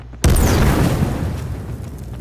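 Airstrike explosion in the video game H1Z1: a single sudden, loud boom with a heavy low rumble that decays over about two seconds.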